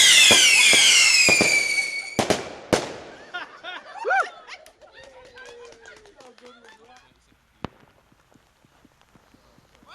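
Homemade firework rockets on Bonfire Night pop and crackle outdoors with sharp bursts and whistling streaks, while excited voices shout and cheer between fading scattered bangs.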